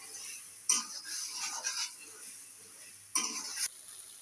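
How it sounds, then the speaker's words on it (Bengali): A thick spice paste of ginger ground with cumin and garam masala is stirred and fried in oil in a pan. Short bursts of scraping and sizzling come close by, with two distinct strokes separated by quieter frying. "খুব ভালো করে কষে নেব মশলাটা"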